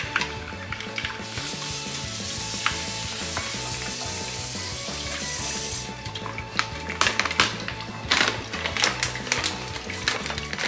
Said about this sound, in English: I'm gonna whisk it up